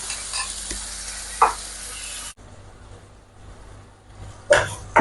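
Masala sautéing in a pan as a shawaya accompaniment: continuous sizzle with occasional sharp scrapes of stirring, a brief drop in the frying noise midway, then louder stirring strokes near the end.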